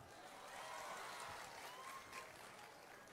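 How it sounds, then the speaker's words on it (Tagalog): Faint, distant crowd applause at a Senator Manny Pacquiao miting de avance political rally, a soft continuous patter of many hands lasting about three seconds. "Wala pa'y palakpak sa ilaha."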